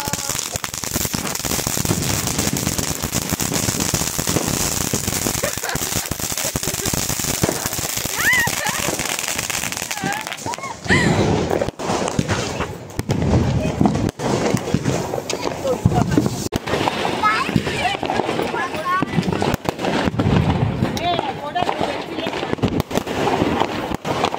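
Diwali firecrackers and fireworks crackle and pop in rapid bursts at a celebration, with a dense hissing stretch followed by scattered loud bangs, while people talk over the noise.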